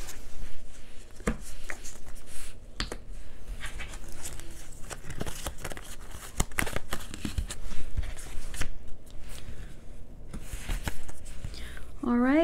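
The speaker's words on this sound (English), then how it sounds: "watch me shuffle before you chose" A deck of tarot cards is shuffled at a table during a card reading: rapid riffling and tapping comes in uneven bursts, close and moderately loud, with a voice talking softly in the background.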